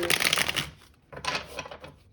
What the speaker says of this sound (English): I'll give the deck a few more shuffles